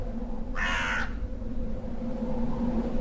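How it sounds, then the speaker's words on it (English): Crows caw once in a short burst of harsh calls against a steady low background hum, with no other voices. "no birds ever sing, excepting old crows"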